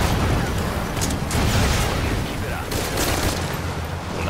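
Gunfire in Metal Gear Solid V: Ground Zeroes, a dense, loud stretch of shots and booming impacts that continues steadily throughout, with some voice mixed in.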